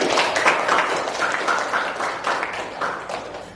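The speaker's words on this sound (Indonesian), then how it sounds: "Berikan tepuk tangan yang meriah untuk kelompok 4." Group applause in a classroom after a student group's presentation, a steady dense patter of many hands clapping at moderate level throughout, with no talk over it.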